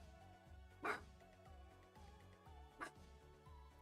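A dog barks twice indoors, two short muffled yaps spaced about two seconds apart, faint and somewhat distant over a low steady hum.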